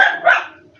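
A dog gives a single close, loud bark that trails off quickly into near silence.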